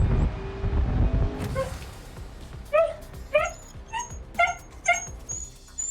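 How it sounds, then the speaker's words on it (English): A dog indoors whimpers and yips in a string of five or six high, whiny cries spaced about half a second apart, close and fairly loud after a low rumbling start. "This dog."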